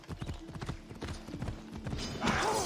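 Horse hooves clip-clop at a steady gallop in the Assassin's Creed Odyssey video game, a fast even rhythm, fairly close, with game ambience and a brief rise of other sound near the end.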